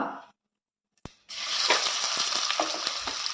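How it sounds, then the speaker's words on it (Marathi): Chopped onion sautéed in a pan with fenugreek seeds, dried red chillies and turmeric for sambar; near-silence and a single sharp knock give way to a sudden loud, close sizzle that continues with stirring scrapes. "कांदा आपल्याला परतून घ्यायचा आहे"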